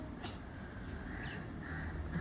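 Sparrows call in short, scattered chirps over a steady background hum, fairly faint and not close.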